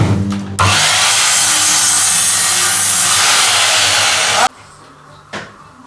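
A power saw cuts through wood for about four seconds as a loud, steady whine, with quieter room noise and brief knocks before and after.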